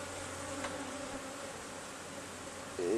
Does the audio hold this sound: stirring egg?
no